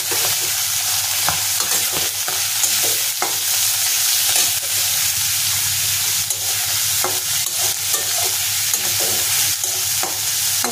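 Onion, garlic and green chilli fry in hot oil with a loud, continuous sizzle, while a spoon stirs them in repeated scraping strokes against the pan.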